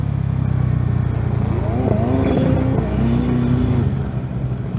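Porsche engine driving on a road, a continuous loud rumble with rising and falling revs, while a person speaks over it briefly.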